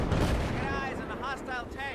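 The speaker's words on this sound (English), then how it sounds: "they're shooting at us" Rapid, dense gunfire rattles through a Battlefield 4 firefight, a near, continuous barrage of overlapping shots with faint voices briefly surfacing in the mix.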